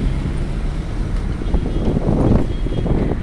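Strong storm wind gusts through a palm market in Marsa Matruh as rain falls, a steady, loud broadband roar that swells toward the end with no voices.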